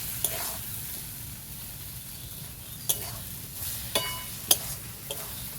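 Spice paste with tomato stir-fried in oil for a rustic home-style chicken kosa: a continuous low sizzle with a few crisp, isolated spatula clicks against the pan, and no voices.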